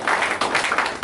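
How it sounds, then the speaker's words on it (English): A live audience at a Pennsylvania Forward Party political event bursts into steady, dense applause, with many hands clapping together in a continuous rush that swells slightly in waves. "So just really give yourselves a round of applause"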